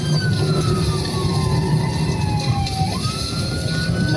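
A stolen police car's siren wails with slowly sweeping pitch over a steady engine rumble, loud and continuous throughout.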